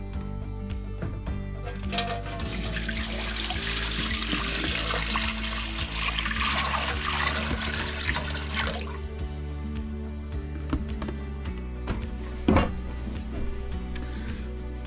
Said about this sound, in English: Got this bucket of water here, and we'll see how waterproof all this piping is.